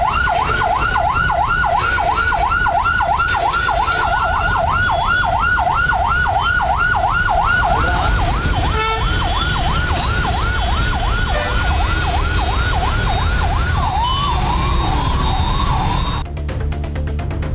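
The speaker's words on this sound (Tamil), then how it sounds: "ஆம்புலன்ஸ் ஒன்றும் நெரிசலில் சிக்கியது." An ambulance stuck in a rain-caused traffic jam sounds a loud, rapidly warbling siren that repeats for many seconds. It shifts to a slower wail near the end, over a constant rumble of road traffic.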